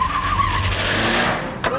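Base model 2001 Honda Civic without anti-lock brakes, tires squealing in a sustained high screech under hard braking over a low engine rumble, fading toward the end with a short final chirp.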